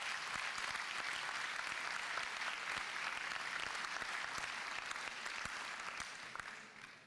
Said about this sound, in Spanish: Así que un fuerte aplauso para todos ellos.